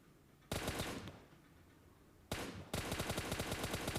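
Rapid automatic gunfire from an M762 rifle fired prone in PUBG, two loud bursts of repeated shots with a short quiet gap between them.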